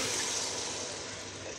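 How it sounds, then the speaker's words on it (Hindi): Steady, close stream of water poured into a cooking pot in a home kitchen, a continuous broadband splashing rush lasting the whole moment without speech. "अब डाल जा रहा है पानी"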